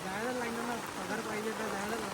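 Heavy rain pours down in Mumbai, a steady, dense hiss filling the background throughout while someone talks over it close by.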